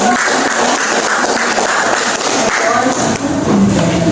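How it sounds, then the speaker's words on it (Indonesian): Classroom audience clapping during a school group presentation session, a steady dense patter of many hands at fairly high loudness that runs the whole time. "Oke, berikan tepuk tangan dulu."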